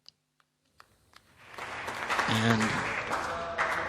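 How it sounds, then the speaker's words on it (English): Applause swells in a launch control room after a Soyuz satellite separation, starting with a few isolated claps and building into sustained clapping from a crowd, with a voice briefly speaking at the start. "You see the applause, you hear the applause."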